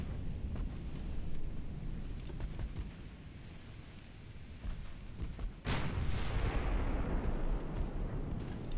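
A warship's main guns fire in a naval battle in Ultimate Admiral Dreadnoughts, a single heavy boom that rolls out into a long rumbling decay over constant low ambient noise.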